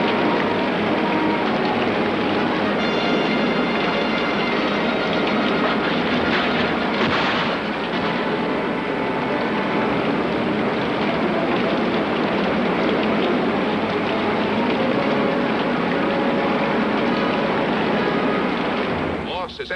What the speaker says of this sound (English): the torrential rains are continuing in an ever-increasing pattern